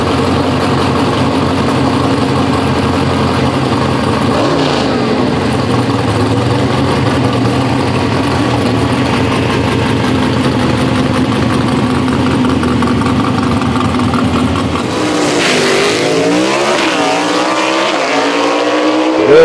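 Gasser drag race cars at London Dragway roaring down the strip, a loud, sustained engine blast that continues for most of the run before shifting near the end as the cars pull away.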